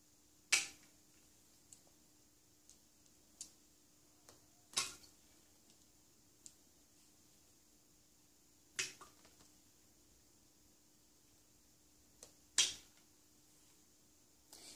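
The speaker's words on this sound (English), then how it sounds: "let's see what happens when we drop one of the plastic pieces" Small plastic pieces drop one by one into water, a handful of soft, sharp plinks and ticks spaced several seconds apart in a quiet setting.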